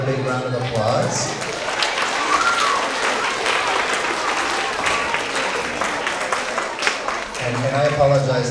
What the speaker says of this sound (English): let's give Abby another big round of applause